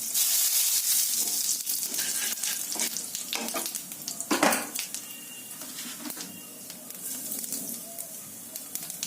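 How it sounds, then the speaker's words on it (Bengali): Cumin seeds and dried chillies crackle and sizzle in hot oil in a wok, with sharp pops and a brief clatter of a utensil against the pan. "কালো জিরে ফোড়ন দিলাম"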